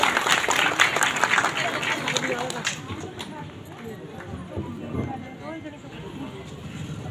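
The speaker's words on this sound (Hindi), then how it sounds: "जोरदार तालियां बजाएं।" Crowd applause at an outdoor political rally, dense loud clapping in the first few seconds that thins into scattered claps and crowd noise, with talk throughout.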